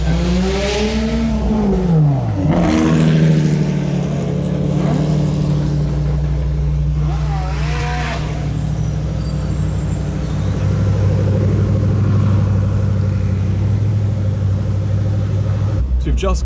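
A 2019 Ferrari Portofino's turbocharged engine pulls hard on the Festival of Speed hill climb, heard from inside the cabin, its steady close drone sweeping up in pitch early on before holding a loud, even roar.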